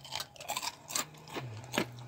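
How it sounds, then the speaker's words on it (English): Several crisp crunching bites and chews of a crunchy homemade chip, close to the mic, in irregular bursts over a low steady hum, with no talking. "I'm going to grab a beautiful crunchy chip and give it a go. See if it's crunchy."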